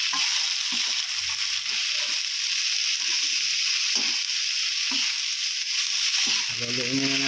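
Leftover vegetables and celery frying and being stirred in a pan for pancit canton, a steady close sizzle with occasional clanks of stirring and brief talk near the end.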